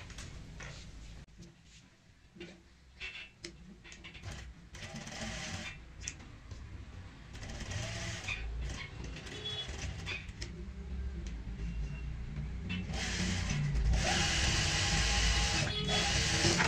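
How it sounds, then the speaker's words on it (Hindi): A sewing machine stitches fabric for a handmade potli (batua) bag at home, its mechanical whirring running steadily throughout and growing louder toward the end. "यहाँ से हम सिलाई की शुरुआत करते हैं"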